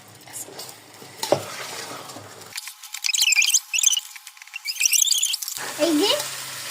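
Washed rice is stirred and fried in a pot for chicken pulao, giving bursts of scraping, rattling grains and utensil clatter against the metal, close by, broken by short pauses.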